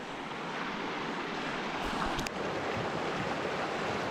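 Surf washing onto an empty New Zealand beach, a steady broadband roar of breaking waves mixed with wind buffeting the microphone, with no talking.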